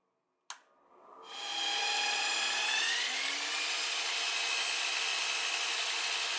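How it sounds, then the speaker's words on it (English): A sharp click, then a steady loud whine of a drill press joined by the constant roar of a dust collector, running continuously with no voices. "I connected the dust collector and tried drilling."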